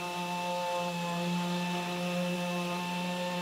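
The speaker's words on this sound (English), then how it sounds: "So it's the last sanding process with the P800 disc." A power sander with a P800 disc finishes a composite panel, a continuous steady tonal hum with a strong even pitch and no pauses.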